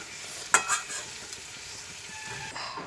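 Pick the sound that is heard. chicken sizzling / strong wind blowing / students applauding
chicken sizzling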